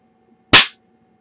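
A G.I. Joe toy launcher fires once with a single sharp, loud pop that decays quickly, set against near silence.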